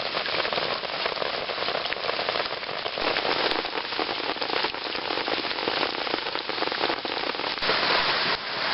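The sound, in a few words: heavy rain in the jungle on a tarp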